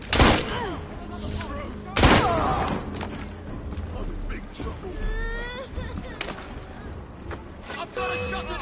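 Gunshots in Assassin's Creed Syndicate, two loud heavy booming blasts early on, then fainter shots and effects under shouting game voices.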